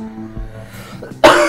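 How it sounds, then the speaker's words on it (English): A person coughs once, a sudden loud burst near the end after a stretch of quieter background tones and murmur, during play of the puzzle game Please, Don't Touch Anything. "I'm really sorry that I keep coughing"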